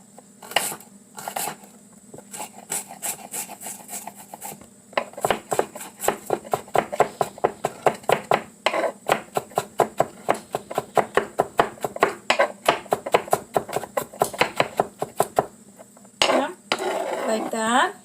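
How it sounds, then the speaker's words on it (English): Garlic being chopped with a knife on a board for a meatloaf, rapid rhythmic tapping chops in quick bursts, close and crisp, with brief pauses and a voice talking in between. "I'm just gonna cut this garlic, chop it up"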